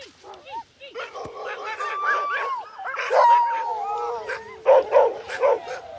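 Sled dogs at a frozen lake race checkpoint in -40F cold howl and yip together in a dense, wavering chorus, rising and overlapping with sharper barks, close and loud, with brief voices among them.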